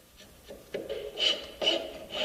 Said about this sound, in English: When it's close, it can be smoothed with a rasp and sanded.